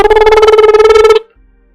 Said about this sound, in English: Phone a ring off, don't stop.